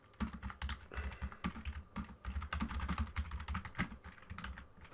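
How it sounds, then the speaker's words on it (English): A computer keyboard is hammered fast and hard up close, a continuous stream of sharp clacking keystrokes running for several seconds without any talking. "Oh, you hear me mashing the keyboard like a madman."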